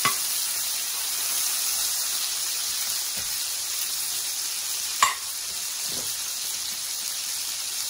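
Pan-seared cod loin set back into a hot pan with blistered tomatoes, capers and lemon butter juices, giving a steady close sizzle with a sharp spit or clatter near the five-second mark, no talking.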